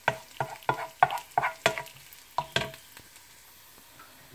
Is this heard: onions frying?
yes